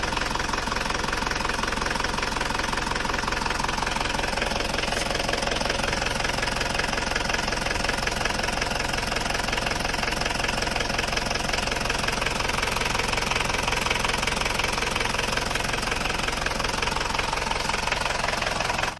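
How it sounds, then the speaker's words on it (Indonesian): A diesel engine in a Toyota Kijang Panther runs steadily at idle with a constant rapid ticking knock throughout, close and continuous with no voices. "mesin itu sudah mulai bunyi tek tek tek tek tek tek tek tek tek tek tek"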